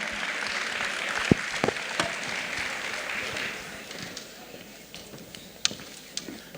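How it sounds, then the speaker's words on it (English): Applause welcomes a doctor to the stage at a morning health discussion event, a full round of crowd clapping that thins out midway, leaving a few scattered louder claps and faint room noise at the end. "A round of applause, please"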